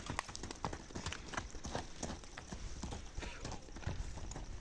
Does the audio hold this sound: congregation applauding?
no